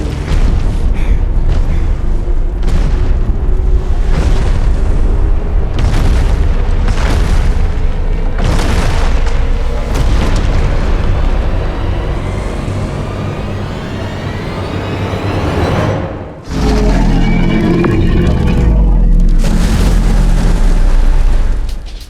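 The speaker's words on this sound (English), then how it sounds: "the first one has a sonic boom and blasts out" A loud, sustained sonic boom roar with heavy rumbling blasts. It cuts out briefly near the end, then bursts back in with a deep boom.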